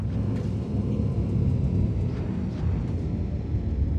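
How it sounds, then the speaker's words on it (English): A steady, deep storm rumble rolls through a Star Citizen game scene, a continuous low roar that holds at the same loudness throughout with no voices over it. "And now the storm comes in."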